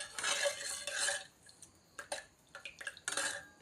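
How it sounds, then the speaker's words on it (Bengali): Fuchka filling with dry chili and spices is stirred gently in a bowl. Close, quiet scraping and clinking bursts come in short irregular strokes, with no voices. "এবার একটুখানি ঘাঁটবো"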